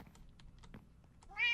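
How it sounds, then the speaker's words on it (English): A cat meows in the Minecraft SevTech Ages modpack, a short clear call rising near the end after a stretch of faint clicking and background sound. "And as you can hear, we have"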